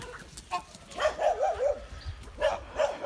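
Dogs near goslings give several short, sharp barks and yips at close range, in quick bursts with brief pauses between.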